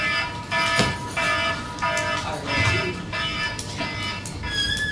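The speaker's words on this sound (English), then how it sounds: "It's not a real fire alarm," Fire alarm sounding, a loud electronic tone pulsing in repeated bursts of roughly half a second with short gaps, heard alone and close without talk.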